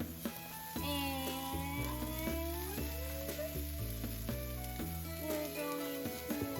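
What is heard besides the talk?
sliced carrots stir-frying in a pan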